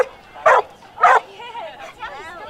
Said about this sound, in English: Him barking, being like the only dog barking around here